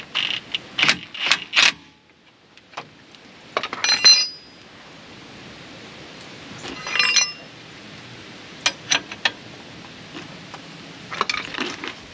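Bolts being tightened with a wrench while fitting an Agile Offroad RIP kit to a 2019+ Mercedes Sprinter van; sharp metallic clinks and ratcheting bursts come in irregular clusters, close and fairly loud, with quieter gaps between.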